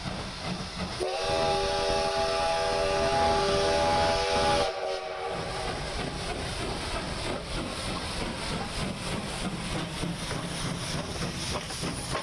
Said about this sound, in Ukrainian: Вони дуже хотіли побачити старовинний потяг.